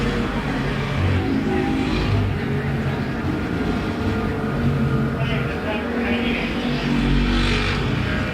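Street stock race cars roar around the Perris Auto Speedway track in a main event, a steady dense engine drone filling the clip with rising and falling passes, under continuous talk.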